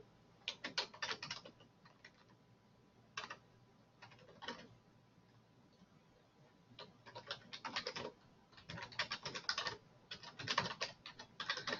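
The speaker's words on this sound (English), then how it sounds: "So just quickly type that in." Someone types on a computer keyboard in several bursts of rapid, clattering keystrokes separated by short pauses, close and fairly clear, with no speech.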